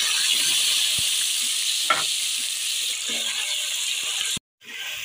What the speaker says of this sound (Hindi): अदरक लहसुन डाल के अब हम इसे भूनेंगे ताकि इसका कच्चापन निकल जाए